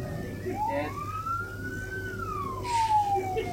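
A single ambulance siren wail rises and falls slowly, moderately distant, over steady traffic rumble.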